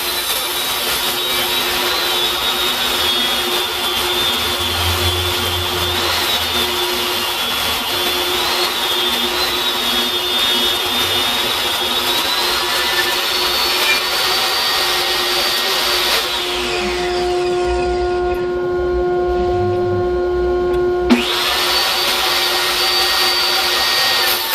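A power saw cuts cedar boards into one-inch-thick strips for a planter, a steady loud whine and rasp running continuously, briefly shifting pitch near the end as a cut finishes, then resuming.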